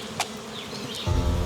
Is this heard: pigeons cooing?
no